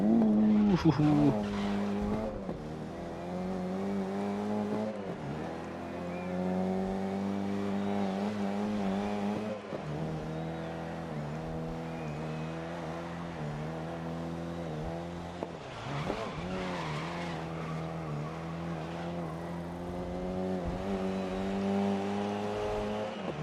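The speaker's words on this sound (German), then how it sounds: "Mit dem Go-Kart durch die Strecke." A go-kart racing around the track in GRID (2019) on PS4 drones with a steady buzzing engine that rises and falls through gear shifts, with brief tire squeals at corners and a voice talking over it.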